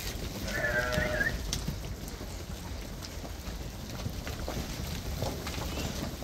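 Bleating from a flock of young sheep and lambs in the open, a single clear call near the start over steady wind and outdoor rumble.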